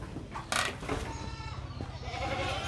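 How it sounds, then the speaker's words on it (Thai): Goats bleat on a Thai goat farm, several wavering calls at moderate distance over a steady low rumble of farm background noise, with no speech. "ทางพี่เบ้งได้หันมา ทำอาชีพเลี้ยงแพะ"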